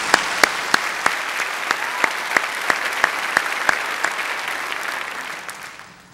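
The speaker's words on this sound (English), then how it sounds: "If we could give them a big round of applause and thank them." Graduation audience applauding retiring faculty at a spring ceremony: a hall full of steady clapping, a few sharp single claps standing out near the front, slowly thinning and fading toward the end.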